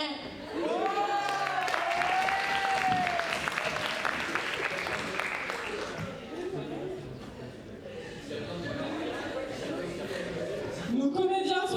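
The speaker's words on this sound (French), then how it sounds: "on les applaudit très très fort." An audience at a student talent show claps for the comedians, a steady mass of applause under talking and bits of laughter, with a voice speaking over it throughout.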